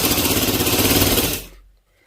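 A sewing machine stitches a girl's frock in a fast, rhythmic rattling run of needle strokes, loud and close, then stops abruptly and falls silent.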